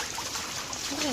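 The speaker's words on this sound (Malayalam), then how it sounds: "ഞങ്ങളെ വീട്ടിൽ ഇങ്ങനെയാണ് വെള്ളം റോഡിൽ കൂടെ ഒലിച്ചു വരും." Rainwater running down a road from a quarry uphill during the monsoon: a steady, faint broadband wash of flowing water with no clear splashes.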